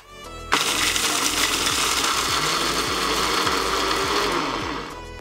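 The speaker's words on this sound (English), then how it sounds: "I will put them into the grinder and grind them into powder form." An electric grinder whirs loudly, pulverizing roasted curry spices into powder. It starts abruptly after a brief quiet moment, holds a steady harsh grinding roar with rattling for several seconds, then eases slightly near the end.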